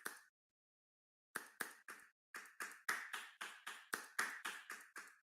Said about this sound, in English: give a big applause for her